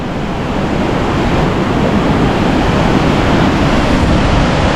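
The Guadiaro river runs in flood beside railway tracks, a loud, steady, close roar of rushing water with some wind buffeting and no pauses.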